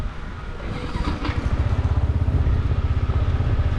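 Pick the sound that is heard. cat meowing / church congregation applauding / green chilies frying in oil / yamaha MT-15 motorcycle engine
yamaha MT-15 motorcycle engine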